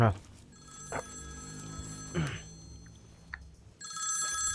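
A telephone rings in repeated electronic bursts, with short voice-like sounds between the rings.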